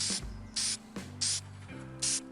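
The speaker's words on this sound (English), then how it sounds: "Spray painting it up." Several short bursts of gloss black spray paint hiss from an aerosol can onto a resin craft base, four separate sprays close by with brief pauses between, no talking.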